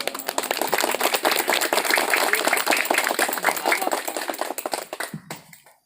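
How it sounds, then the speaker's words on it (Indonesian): Lively applause from an audience at a National Santri Day gathering in a Bogor village, many hands clapping in a fast, dense patter that thins and fades out near the end. "Tepuk tangan yang meriah."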